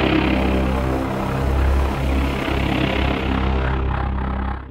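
A computer fan spinning hard and running loudly gives a steady, broadband whooshing hum with a low drone, close and continuous, fading out at the very end without any talk.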